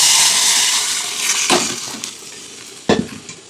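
Panch phoron, cumin, bay leaf and dried chilli frying in hot oil, a loud close sizzle that slowly fades, broken by a couple of sharp clatters from a spoon against the pan.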